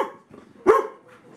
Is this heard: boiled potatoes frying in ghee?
no